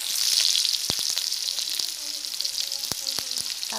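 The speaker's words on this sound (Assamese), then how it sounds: "এয়া বাকী থকা তেলখিনিত মই পিঁয়াজ দি দিছোঁ" Onions sizzle in leftover hot oil, a steady loud frying hiss broken by a few sharp clicks and scrapes as they are stirred.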